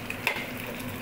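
Onions fry in a pan with a soft, steady sizzle and a brief stir or clink, close up, with no talk.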